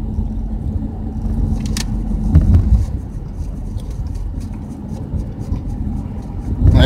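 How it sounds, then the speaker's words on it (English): A van rolls along city streets at night, a steady low engine and road rumble filling the cab with a few small rattles and clicks over it. "Doing a little night driving."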